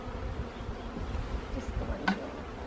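Honeybees swarm around comb inside a dishwasher, a dense, steady buzzing drone close by, with one brief sharper knock near the end.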